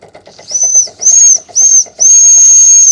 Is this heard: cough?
no